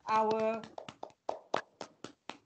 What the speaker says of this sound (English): let's give a big clap to all of our